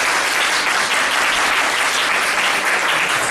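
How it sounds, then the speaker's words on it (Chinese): Dense, steady applause from a seated audience at a panel discussion, welcoming a guest speaker to the stage; loud and continuous with no voices over it. "大家请热烈掌声"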